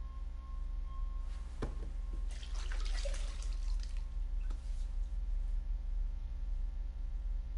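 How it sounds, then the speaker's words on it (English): Water splashed onto a face in the video game Black Mirror, quiet dripping and trickling sink water with a few sharp thunks and a brief burst of splashing in the middle, faint over a low hum. "Just keep splashing water in our face."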